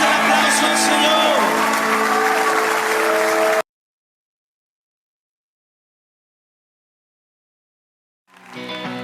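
A church congregation claps loudly during a worship service, dense clapping mixed with singing and music for several seconds, then a stretch of silence before clapping and music return near the end.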